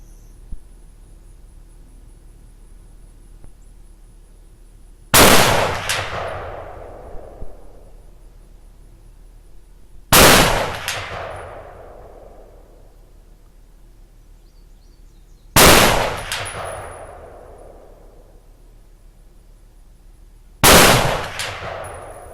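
Four loud, close gunshots fired at a metal plate, spaced about five seconds apart, each a sharp crack followed by a ringing metallic decay.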